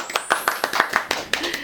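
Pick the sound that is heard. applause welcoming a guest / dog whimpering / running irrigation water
applause welcoming a guest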